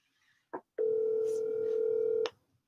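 A telephone call is placed, heard as a brief dialing tone followed by a steady, loud ringback or dial tone lasting about a second and a half, close and clear with no talk.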